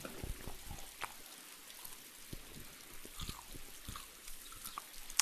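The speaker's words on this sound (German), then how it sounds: "Regnet bei euch auch? Jo. Jetzt ja." Steady in-game rain falls throughout in the survival game DayZ, a soft continuous hiss with scattered drip-like ticks and occasional brief knocks, heard alone at low level.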